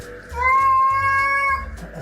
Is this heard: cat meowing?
yes